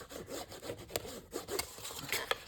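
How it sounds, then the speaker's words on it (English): A tool rubbed firmly along score lines on a paper box, producing quiet dry scraping strokes in a quick back-and-forth rhythm, close up and faint, with no voices. "always make sure to burnish so that you get a nice box"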